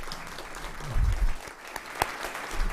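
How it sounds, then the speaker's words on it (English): Audience applause at a Surf City, North Carolina candidate forum: a room of people clapping steadily for nearly three seconds, with a few louder individual claps standing out from the crowd. "I think we should give them a round of applause"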